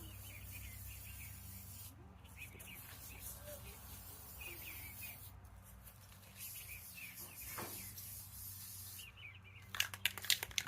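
Faint hissing bursts of an aerosol spray can coating an engine fan on a Bronco being rebuilt, several separate sprays with short pauses between, with quiet background noise.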